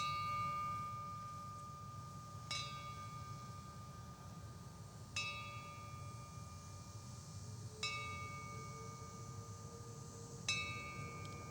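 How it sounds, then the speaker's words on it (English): A memorial bell at a Day of Remembrance and Hope ceremony strikes at slow, even intervals, each ring leaving a long metallic ring that fades over a low steady room hum, with no talking. "We're going to ring the bell 6 times and then have a moment of meditation."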